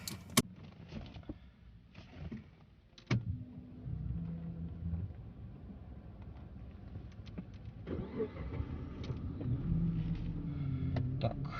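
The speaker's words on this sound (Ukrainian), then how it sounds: "ми завели автомобіля, його єлі-єлі чути" A Chrysler 300C with an automatic gearbox idles very quietly nearby as a low, faint hum. A few brief clicks and mechanical sounds from inside the car occur over it.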